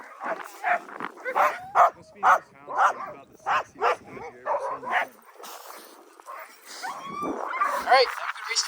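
Sled dogs bark repeatedly before a sled dog race, a rhythmic run of loud, close barks and yips followed by whimpering, with people talking among them.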